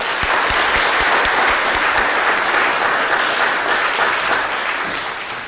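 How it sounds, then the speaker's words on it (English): Dense crowd applause fills the air at a children's march opening rally in Connecticut, honoring student speakers; loud sustained clapping that tapers slightly at the end. "Can we give them another round of applause?"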